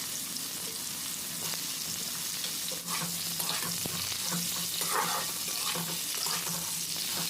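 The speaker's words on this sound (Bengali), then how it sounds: "ফুলকপিটা হালকা ভেজে নিতে হবে" Steamed cauliflower frying in oil in a wok, a continuous low sizzle with scattered clinks and scrapes of a spatula moving the florets around.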